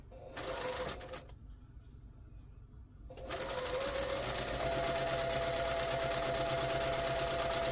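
A sewing machine stitches quilt pieces for a table runner in rapid mechanical bursts, pausing briefly before running steadily and close at a fast even pace.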